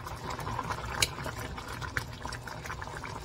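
A pot of thick Korean soybean paste (bbakbbakjang) made with anchovies is boiling. It gives a quiet, steady bubbling with a few sharper pops that stand out.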